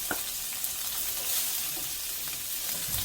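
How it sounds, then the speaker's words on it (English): Onion and jalapeno sizzle steadily in a hot pan while preparing bistec a la Mexicana, a dense, even crackling hiss that carries on without a break and with no voices. "So we're gonna start off by adding your onion and jalapeno."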